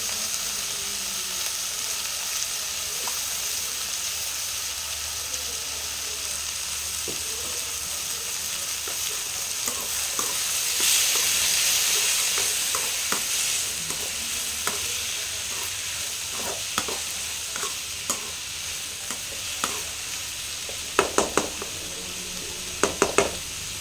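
Boiled carrots, beans and potatoes are stirred in a hot pan, a steady sizzle running throughout with scraping stirs and a few sharp clinks of the utensil against the pan near the end.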